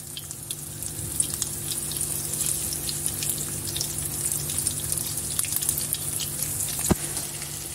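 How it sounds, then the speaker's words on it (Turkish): Eggplant slices dredged in cornmeal flour frying in about a tea glass of hot oil in a pan: a steady, fine crackling sizzle throughout, fairly close, with a brief sharper knock near the end. "Yağımızı kızdıralım. Bir çay bardağı yağ yeterli gelecektir. Ve patlıcanlarımı tavama alıyorum."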